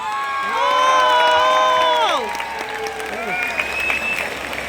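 A crowd at a Tamil musical event in Muscat applauds and cheers to welcome a singer: steady dense clapping with whoops and shouted voices, tonal sounds gliding over it, loud and close throughout.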